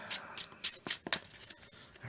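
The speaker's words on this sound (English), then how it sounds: "We're going to shuffle that bad boy right back in." Magic: The Gathering cards are riffled and shuffled up close: quick bursts of crisp card flicks in an uneven rhythm, then softer handling noise, with no talk.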